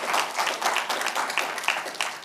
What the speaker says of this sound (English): Charles Hamilton, let's give him a round of applause.